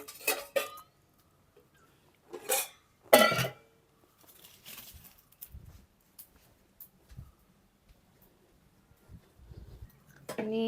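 Black and white pots being handled, a few separate clattering knocks and clinks at irregular intervals with quiet gaps between, close by, and a person speaking softly among them.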